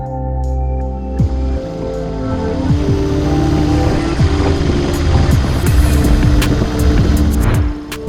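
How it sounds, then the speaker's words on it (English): Motorbikes riding the Beechmont Loop in Australia, engines droning and rising and falling in pitch as several bikes pass at middle distance, a continuous throbbing road roar that swells toward the end. "We are definitely a destination for a lot of the motorbike riders, as you can hear in the background."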